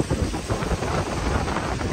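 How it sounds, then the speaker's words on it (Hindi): Heavy rain pours steadily during a night wait at a bus stop in Interlaken, Switzerland, a dense, continuous roar of falling water with a rumbling low end and gusty wind noise, loud and close throughout with no talking. "और देखो बारिश कितनी तेज आ रही है"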